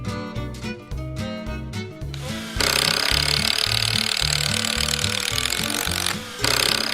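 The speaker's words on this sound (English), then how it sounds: "Dad is making a hole" A loud, steady drill bores continuously through wood, making a hole, starting after a few rhythmic hammer knocks and pausing briefly before resuming.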